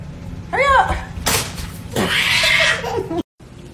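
A cat's wavering meow cuts in with a sharp slap or whip-like crack, and a voice speaks over the commotion before it abruptly drops out.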